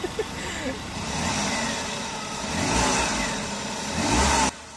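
A Suzuki DA64V van engine, just fitted with a new air temperature sensor, starts and revs in surging waves, rising and falling loudly at close range before cutting off abruptly at the end.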